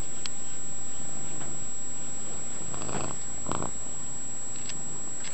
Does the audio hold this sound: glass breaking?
no